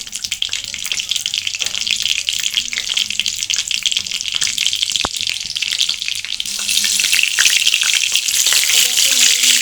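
Two tomato pieces fry in a pan of oil after a light tempering, a steady close sizzle with scraping stirs, one sharp click midway, and the sizzle growing louder toward the end.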